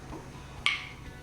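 A single sharp metallic pop of a canning jar lid sealing, brief and fairly close, over faint steady background noise.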